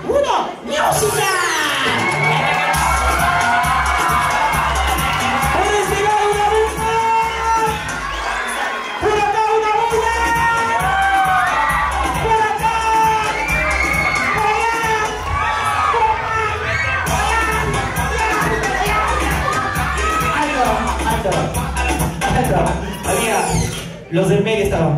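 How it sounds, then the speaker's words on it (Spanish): Loud, dense crowd at a children's birthday show, with clapping and excited shouting and cheering from children, continuous and close, with a voice calling out over the noise. "Palmas y gritos."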